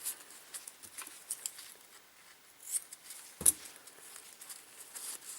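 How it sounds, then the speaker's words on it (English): Scissors snip a hole in the centre of a square of fabric in a garage, with faint, scattered quiet clips and one sharper cut partway through, no talk. "I'm going to get a square of fabric and I'm going to cut a hole in the centre of it"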